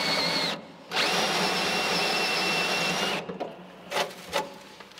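A power drill bores a pilot hole into the centre of a spot weld on a race car chassis, whining steadily for about two seconds after a short first burst, then a few faint clicks and scrapes.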